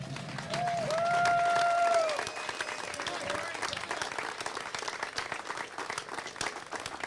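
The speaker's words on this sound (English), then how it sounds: "Let's give a big round of applause to Corey Bruce." Fairground audience applauding the Ultimate Fairgoer winner, a steady wash of clapping and crowd noise with a brief sustained tone near the start, continuing at moderate level throughout.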